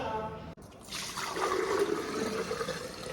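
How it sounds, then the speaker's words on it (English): Carrot pineapple juice with apple, pear, lime and ginger pours in a steady, close trickle that starts after a brief pause and runs for a few seconds, with low voices in the background. "am I pouring the juice without spilling it today?"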